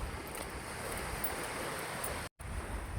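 Sea waves wash onto a beach in a continuous broad rushing roar, with wind buffeting the microphone and a brief dropout near the end.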